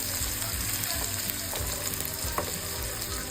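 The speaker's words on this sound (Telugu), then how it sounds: "నేను ఓన్లీ 2 పీసెస్ ఫ్రై చేస్తాను ఇప్పుడు" Fish pieces sizzle and crackle steadily in hot oil with curry leaves, a dense continuous frying hiss with small pops throughout, close and fairly loud, with no talking.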